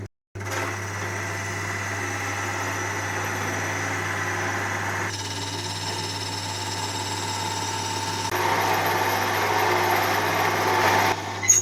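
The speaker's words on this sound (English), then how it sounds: "I'm going to drill the centre out of this one" Continuous whirring lathe hum with a high-pitched motor whine while drilling out the centre of a turned wooden piece, rising slightly in intensity toward the end, steady and close.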